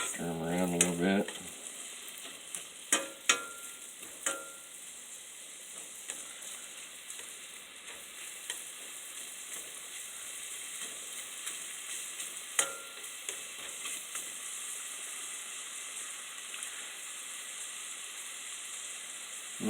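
Dryad's saddle mushrooms sizzle steadily in butter in a pan, with a continuous close frying hiss and occasional stirring clatters, and a brief voice at the start.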